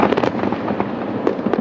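Fireworks bursting in a rapid, irregular series of sharp cracks and pops over a dense, rumbling wash of crackle, loud and steady throughout.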